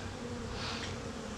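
A dense, steady buzzing of many honey bees festooning on a hive frame fills the air, close and continuous with no talking.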